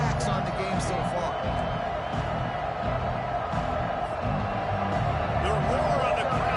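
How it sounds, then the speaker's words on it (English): A football stadium crowd roars steadily throughout, a loud continuous wash of cheering and shouts, with a commentator's voice heard over parts of it. "The roar of the crowd trying to fuel this defense to keep them pinned in their own end."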